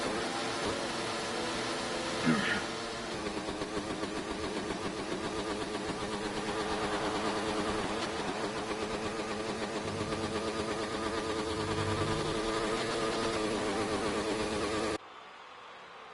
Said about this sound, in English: You can hear that car still bouncing off the rev limiter.